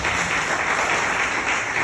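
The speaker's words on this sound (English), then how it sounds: "That's deserving of applause." Sustained audience applause following an introduction speech at a music and spirituality dialogue event, a broad, even roar of many hands clapping throughout, with no voices on top.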